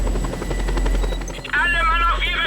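A helicopter drones with steady rotor thumping in the video game Just Cause 2 while an engine whine rises toward the end, loud and close, mixed with game sounds and a brief voice.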